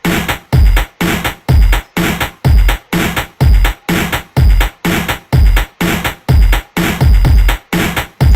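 Chiptune-style SPC sound chip music with a distortion effect, playing as a loud, steady loop of about fifteen evenly spaced punchy hits, each a distorted buzzy tone with a deep thump, with no talking.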